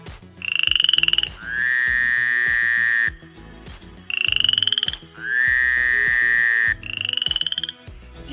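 A frog gives loud, buzzing croaks in long drawn-out bursts, several in a row with short pauses between, close and clear.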